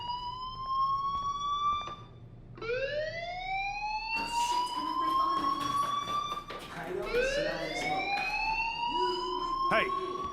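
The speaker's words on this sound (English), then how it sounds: "Hey, do you hear that fire alarm?" A school fire alarm in the video game Life is Strange wails in repeated rising electronic sweeps, loud and continuous, overlapping one another with a faint background hum.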